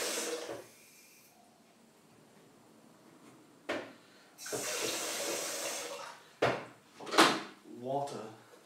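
Water runs from a tap in short bursts, with clunks and clatter of items being handled nearby and faint background activity.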